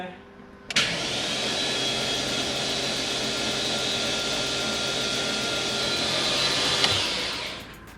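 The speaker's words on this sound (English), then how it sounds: "Yeah, sounds like an engine." A BMW E39 M5 engine, just rebuilt with new rod bearings, cranks and catches, then runs at a steady, even drone for several seconds before shutting off abruptly.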